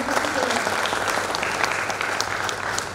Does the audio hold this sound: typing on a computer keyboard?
no